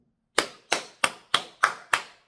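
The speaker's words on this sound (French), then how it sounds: "tu as mes applaudissements." Six sharp hand claps in a slow, even rhythm, close and clear with nothing else around them.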